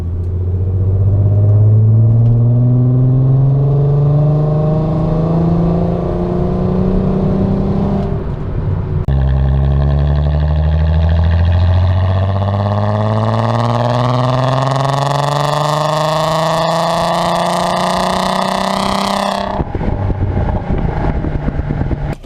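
Resonator-delete 2008 VW R32 running in fourth gear under manual paddle control: a loud, steady engine drone climbs through a long pull, drops briefly at a shift near nine seconds, rises again, then falls off near the end.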